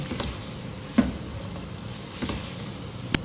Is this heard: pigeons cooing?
no